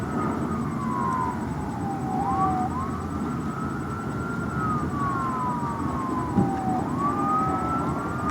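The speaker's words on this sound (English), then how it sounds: "Can you hear that? There's police sirens." A police siren wails in long rising and falling sweeps over steady low traffic rumble, continuous and moderately distant.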